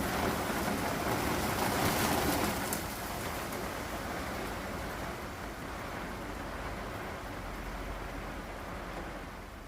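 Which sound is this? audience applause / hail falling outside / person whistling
hail falling outside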